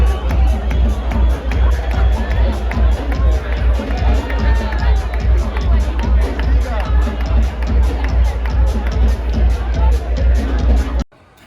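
Packed crowd at a live percussion show in Buenos Aires, a dense roar of voices and shouts riding over loud, steady rhythmic drumming that runs without a break until an abrupt cut near the end.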